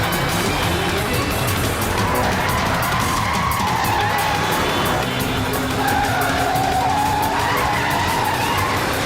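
A car with failed brakes skids with tires squealing in long wavering shrieks over a loud, steady engine and road roar, dense and close throughout.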